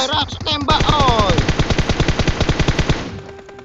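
Rapid automatic gunfire in the PUBG Mobile video game, a loud, close, steady burst of evenly spaced shots lasting about three seconds, with a voice shouting at the start.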